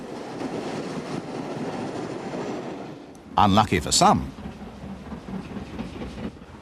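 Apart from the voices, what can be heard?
steam locomotive 8F 48151 hauling the Furness Flyer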